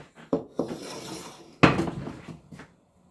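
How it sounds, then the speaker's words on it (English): A saucepan is handled in a kitchen while making Bavarian cream, giving a few sharp metallic clanks and knocks, one louder clatter in the middle, each ringing briefly before quieting, with no talk. "I'm going to take a saucepan"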